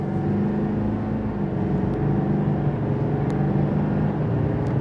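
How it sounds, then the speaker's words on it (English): A 2025 GMC Sierra 2500 AT4 pickup accelerating on a multi-lane highway, its steady engine drone and road rumble heard from inside the cab, constant and fairly loud with no talk. "open her up a little bit more on the gas"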